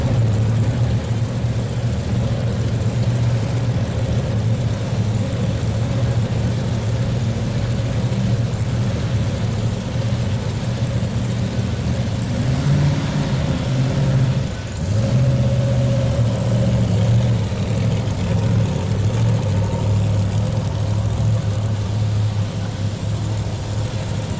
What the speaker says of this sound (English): John Ward, Hillsboro, Ohio, with problems here tonight with his tractor.